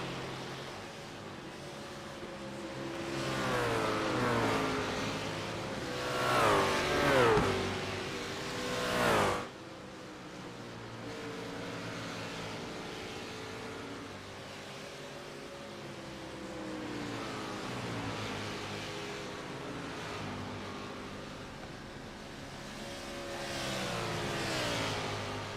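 GT race cars roaring around Lime Rock Park in a racing video game, engines revving up and down through gear changes, loudest early on and then a steady droning pass of several cars.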